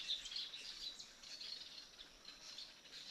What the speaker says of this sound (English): when you hear the birds singing